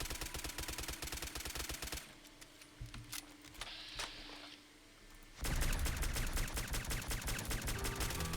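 Rapid automatic gunfire in Fallout 4 from Uzi and pistol weapons, loud dense bursts for two seconds, a quieter stretch with scattered shots, then heavy sustained firing resuming to the end.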